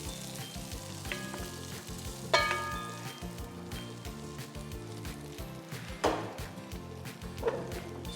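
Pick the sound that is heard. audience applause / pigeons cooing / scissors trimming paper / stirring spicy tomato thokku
stirring spicy tomato thokku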